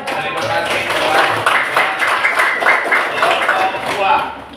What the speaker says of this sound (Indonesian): Kasih ya tepuk tangan